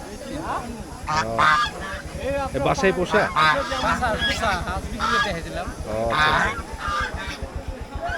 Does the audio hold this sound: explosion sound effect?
no